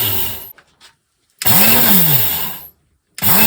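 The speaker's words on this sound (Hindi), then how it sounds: "तो मिक्सी को बस चालू करना है," A mixer grinder grinding red chilli for pickle whirs loudly in short bursts, revving up and cutting off, with brief silent pauses between the on-off pulses.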